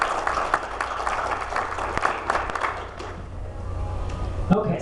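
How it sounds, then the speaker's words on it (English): Audience clapping in a hall for Sue, moderate scattered applause from a crowd with some voices underneath, fading out after a few seconds. "So if I could just get a nice round of applause for Sue."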